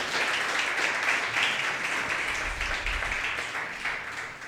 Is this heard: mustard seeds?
no